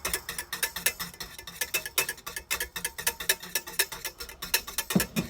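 Paper mache paste whisked in a pot on the stove: a steady, rapid run of sharp scraping, tapping strokes from the whisk, close and even, about four or five per second, with no talking.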